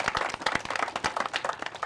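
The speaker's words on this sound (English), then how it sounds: "which deserves even bigger applause" Applause for a U.S. Coast Guard Auxiliary volunteer at a Nobska Light deed transfer ceremony: a crowd claps steadily and densely at moderate volume, with no voices over it.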